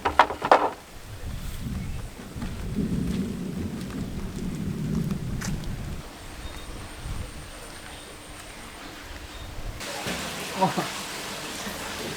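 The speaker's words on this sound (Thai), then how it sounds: "อาจจะได้ยินเสียงฝนหน่อยนะ" Steady heavy rain pours throughout, with low rumbling thunder rolling beneath it and a few sharper crackles near the start and end.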